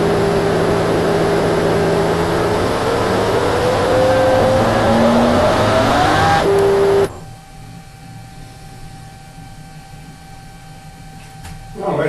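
A metal lathe turns while a cermet insert peels about 0.1 mm, a loud steady whirring machine hum with a tonal whine that shifts pitch. It stops abruptly around seven seconds, leaving a quiet background.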